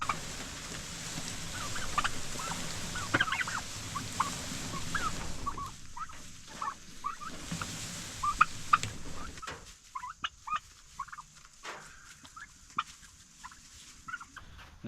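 Several turkeys gobble outdoors on rural land. Their calls come in repeated, fairly close bursts over a constant background hiss, and no voices are heard.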